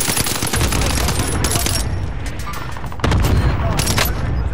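Heavy, continuous gunfire from a shooter video game rattles loud and close for the whole stretch, with dense overlapping shots and a few sharp cracks that stand out. Faint voices may sit underneath the shooting.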